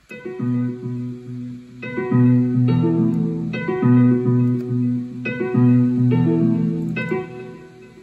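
A mellow Alicia Keys Kontakt piano preset plays repeated sustained chords in a slow, steady progression, clear and close with no talking.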